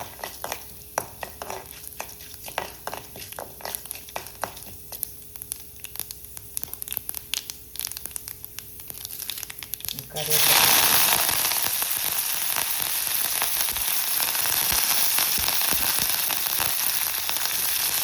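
Fennel seeds and chana dal dropped into hot oil, a sudden loud, dense sizzle that erupts midway after stretches of quieter clatter and stirring, then holds steady and close.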